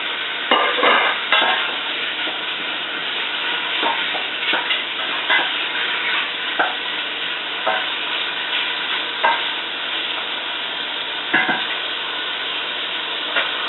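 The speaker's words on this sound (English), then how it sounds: "I'm going to just take some mild sausage and I'm going to brown it" Mild sausage browns in a pan, sizzling steadily while a utensil scrapes and stirs in recurring bursts, with several sharper clatters along the way and no talking.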